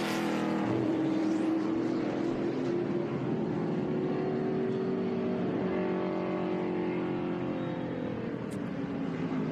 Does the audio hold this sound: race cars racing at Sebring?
yes